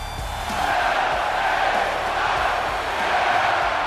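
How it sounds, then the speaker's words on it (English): A sold-out capacity crowd in a WWE 2K24 video game arena cheers on its feet for LA Knight in Los Angeles, a steady, dense roar that swells slightly and holds loud throughout. "this sold-out capacity crowd on their feet for one of theirs"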